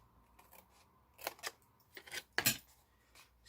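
Scissors snipping straight down through paper or card for a small lotion travel-size box, a few short crisp cuts in quick bursts, close and fairly quiet.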